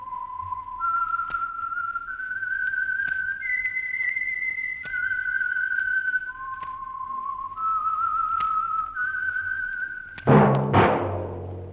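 A clear whistled melody of sustained, gliding notes moves up and down in a slow tune, the theme of the radio program The Whistler, ending with a short burst of louder noise.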